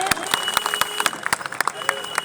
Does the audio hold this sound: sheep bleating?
no